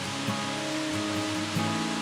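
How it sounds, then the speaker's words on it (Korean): Gwaneum waterfall at Seoraksan gives a steady, even rush of falling water, moderately near, with faint sustained tones humming underneath and no one talking. "관음교에 이르러서는 웅장한 관음폭포가 모습을 드러냅니다."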